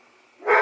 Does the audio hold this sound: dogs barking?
yes